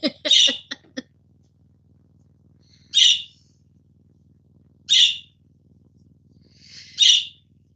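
A pet bird gives a quick run of sharp chirps, then three louder single calls spaced about two seconds apart, close and clear over a quiet room with a faint low hum.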